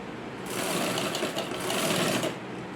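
Sewing machine stitching around the back neck of a blouse, a fast dense mechanical whirr that starts abruptly, runs steadily for about two seconds and then stops, close and fairly loud.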